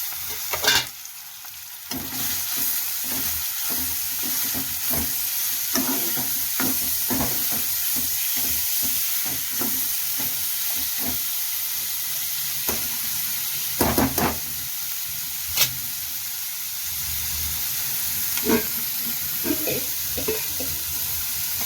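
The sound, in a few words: onions frying in a pan before adding tomatoes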